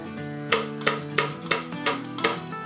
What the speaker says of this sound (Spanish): voy a poner a freír el jitomate con el chipotle que molimos